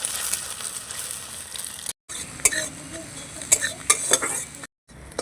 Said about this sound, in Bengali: এবার নাড়াচাড়া করে ডিমটাকে ভুজিয়া তৈরি করে নেবো